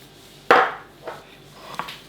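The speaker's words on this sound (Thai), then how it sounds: "ในส่วนนี้เราจะโขลกเอาไว้ทำกระเทียมเจียวนะครับ" Chinese and Thai garlic get pounded in a mortar. Three separate close strikes land, the first loud and ringing, the next two softer, with short pauses between them.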